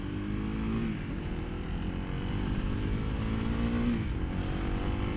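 A 2023 Kawasaki KLX300SM motorcycle engine drones steadily as the bike rides off, a near, continuous single-cylinder hum with slight pitch rises under wind noise.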